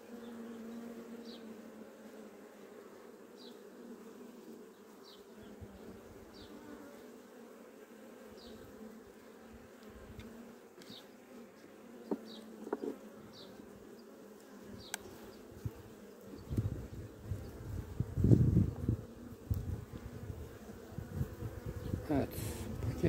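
Honeybees buzz around an opened beehive during an inspection: a steady, fairly soft hum with individual bees droning past close by, plus occasional handling clicks and knocks that grow louder toward the end.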